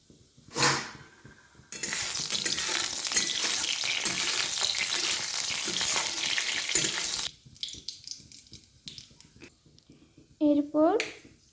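Panch phoron and cumin hit hot oil in a karai, a loud burst of sizzling that runs for several seconds and then dies away, with a few clattering knocks and short bits of talk before and after.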